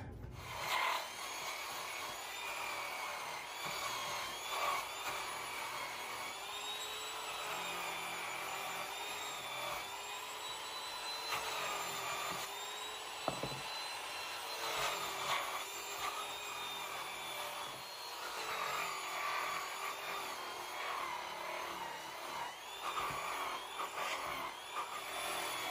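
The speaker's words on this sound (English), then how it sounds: "use my 120 grit flap sander here from my Restorer and get everything cleaned up" A 120 grit flap sander on a Restorer tool works over wood, giving a steady abrasive rubbing whir that holds continuously at close range with small swells and dips and no voices.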